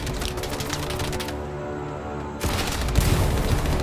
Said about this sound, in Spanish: he visto, he oído cañonazo